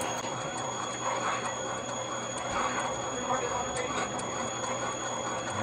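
Valve seat cutting machine doing a radius cut on a cylinder head, a steady mechanical whirring with a faint high whine and light rhythmic ticking, running under a voice.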